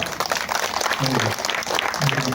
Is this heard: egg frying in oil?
no